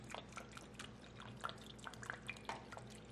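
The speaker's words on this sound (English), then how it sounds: "A little bit of fish sauce," Fish sauce poured into a Thai green chicken curry, a quiet run of soft drips and small liquid splashes at an irregular pace, up close over a low steady kitchen hum.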